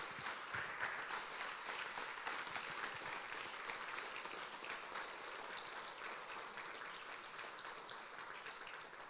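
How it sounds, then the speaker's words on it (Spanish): Church congregation during a Spanish-language sermon gives a long, even round of applause, many hands clapping steadily for about nine seconds at a fairly quiet level, tapering slightly toward the end. "dale un aplauso al Señor"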